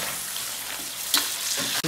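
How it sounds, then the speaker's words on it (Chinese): Crab being stir-fried in a wok with doubanjiang, a steady close sizzle and hiss with scraping stirs and a sharper clatter near the end. "放螃蟹，OK，放，对，然后去炒一炒"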